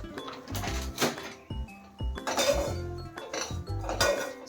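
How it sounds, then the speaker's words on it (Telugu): A spoon stirs makhana snacks coated in masala in a pan on a stove over low heat, making irregular close clinks and scrapes of metal with the rattle of the puffed seeds. "స్టవ్ ఆఫ్ చేయకుండా సిమ్లోనే ఈ మసాలాస్ అన్నిటికీ పట్టేంత వరకు కలుపుతూ ఉండాలి"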